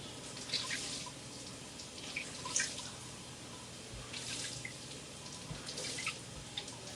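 Water drips and splashes from Rit-dyed cross stitch fabric as it is squeezed out after a warm-water rinse at a sink, with soft irregular patters against a steady running-water background.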